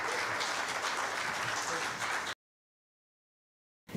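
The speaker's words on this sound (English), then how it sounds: "Let's give her a round of applause and make her comfortable." Conference audience applause at an anti-money laundering and financial crime dialogue, dense clapping from the room for about two seconds before an abrupt cut to silence, then a brief return of sound.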